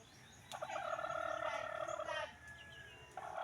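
A chicken lets out a single long, drawn-out crowing call that rings for nearly two seconds. It is faint against steady background noise.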